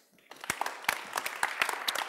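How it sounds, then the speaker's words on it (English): An audience at a talk event gives a warm round of applause for a speaker, starting quietly and building into scattered, fairly distant clapping with distinct individual claps. "I'd like a warm round of applause for Sanne Maring, please."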